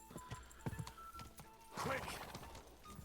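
A horse gallops in Kingdom Come Deliverance 2, its hooves striking in quick uneven beats, then a breathy snort or neigh swells briefly before the hoofbeats continue at moderate volume.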